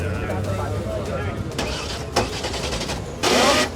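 A car engine cranking over and over without catching, a rough mechanical churning with a louder burst near the end, heard up close with voices around it.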